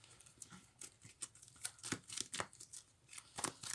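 Cardboard counters or unit cards for German forces in a board wargame are shuffled by hand, making quiet, irregular papery flicks and riffles close by.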